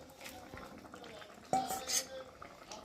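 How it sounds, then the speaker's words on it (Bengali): Spatula scraping and clinking in a pot of pabda fish curry with potatoes, a few soft knocks and one sharper metallic scrape midway, with low kitchen background throughout. "একটু খুন্তি দিয়ে ভালো করে নেড়ে দেবো"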